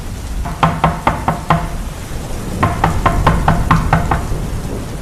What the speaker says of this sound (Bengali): দরজায় আবার সেই শব্দ।